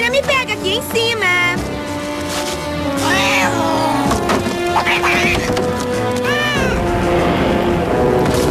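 A furry, lazy cartoon cat meows and yowls loudly in a chase scene set in Holland, with several drawn-out rising cries over music and sound effects while characters talk excitedly.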